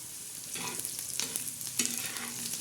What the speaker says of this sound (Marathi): आता आपण हे चांगलं परतून घेणार आहोत